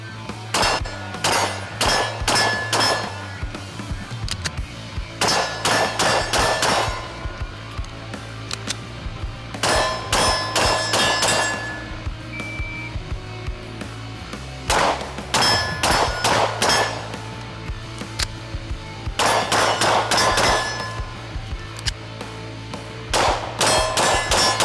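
Pistol shots ring off steel targets in rapid bursts as a Walther PDP Pro SD and a Springfield Echelon are fired side by side, loud metallic clangs repeating in clusters with short pauses between strings.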